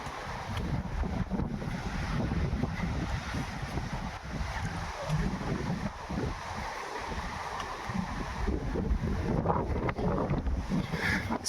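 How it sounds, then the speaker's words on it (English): Strong gusts roar through the trees of Tully Park in Cherrywood, Dublin, a continuous heavy rushing with wind buffeting the microphone in low rumbles, steady and loud throughout without any talking. "It's windy, yes, quite windy."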